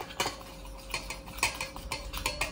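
A spoon stirs a homemade deodorant mixture of water and melted oil, giving quick repeated light clinks and scrapes against the container, close and quiet with no talking.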